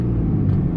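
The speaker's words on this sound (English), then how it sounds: "Well, I'm revving." Pickup truck engine revving through a Pedal Commander throttle controller, a steady loud low rumble held close for under a second with no voices.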